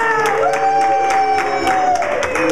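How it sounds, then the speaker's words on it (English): A game-show studio audience cheering, shouting and clapping, a loud dense crowd roar with excited voices and rhythmic claps throughout. "who all here with cheering, making some noise, thinks that our contestant should stick with door number two?"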